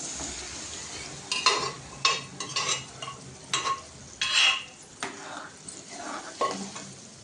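Spoon scraping and stirring in a hot pan as dal is added to frying spices, with soft sizzling underneath and a few louder clattering strokes at an irregular pace.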